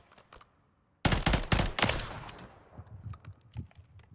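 B50 sniper rifle in Call of Duty MW3 fired at training dummies: a sudden loud, sharp blast with a cluster of cracks, then a decaying tail of lighter clicks and echoes.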